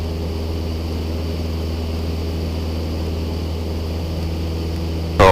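A light propeller airplane drones steadily through a climbing left turn, its engine a loud, constant low hum heard close up from inside the cabin, with a brief bump at the very end.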